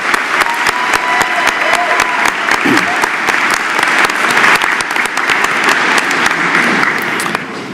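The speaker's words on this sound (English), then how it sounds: "Let's give the graduates a big round of applause" Crowd in an auditorium at a university spring commencement applauding the graduates: loud, dense clapping with sharp individual claps standing out and a brief voice mixed in, easing slightly at the end.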